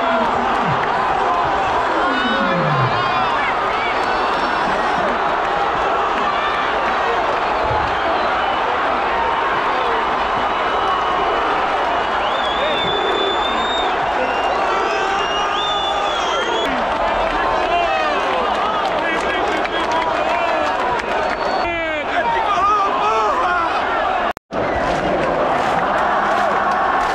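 Santa Cruz football supporters fill a stadium with a continuous roar of crowd noise, chanting and cheering, loud and sustained throughout, with scattered whistles and a brief dropout near the end.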